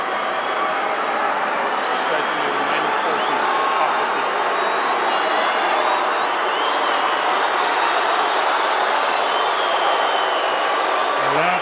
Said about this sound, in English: Cheer and boo from the crowd